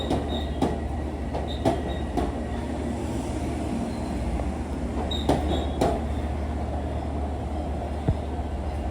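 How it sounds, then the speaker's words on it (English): An LIRR Ronkonkoma train pulls into track 7 at Jamaica station, a loud rumbling roll with repeated clacks and thumps of wheels over rail joints and faint metallic squeals. "This is the 635 Ronkonkoma train arriving at track 7."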